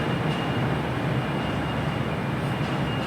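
Class 220 train 220.018 departing Glasgow Central for Penzance, giving a continuous close engine and rail rumble throughout with no voices.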